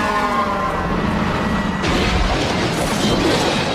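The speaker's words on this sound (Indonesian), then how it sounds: "mobil Terry mengalami remblong dan mengalami kecelakaan yang parah" A car with failed brakes crashes in a film scene: a continuous roar of motor and skidding, then a sudden heavy impact with a burst of crashing noise midway that keeps rumbling loudly to the end, with no voices.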